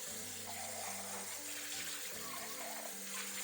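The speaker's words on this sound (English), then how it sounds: "I am going to rinse the black beans. So I have a little colander. I'm going to dump them in here." Tap water runs steadily over canned black beans in a small colander, a continuous soft gushing spray, quiet and unbroken, with no talk.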